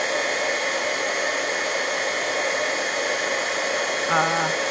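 A heat gun melting embossing powder on a handmade card gives a steady, loud, hair-dryer-like whoosh of blowing air that runs without a break, with a short low hum near the end.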